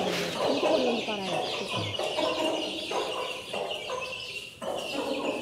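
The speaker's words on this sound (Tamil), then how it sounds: "எங்க பார்த்தாலுமே கோழியா தான் சுத்திட்டு இருக்குதுங்கக்கா" Chickens clucking and calling on a small farm kept by a retired couple, a busy continuous flock chatter close by with a brief low voice in the background.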